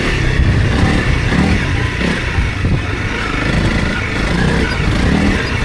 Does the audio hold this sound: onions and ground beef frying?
no